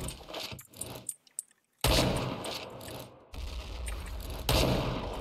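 Gunfire in a shooting video game, with bursts of shots and mechanical weapon clatter heard close and loud, separated by brief silent gaps.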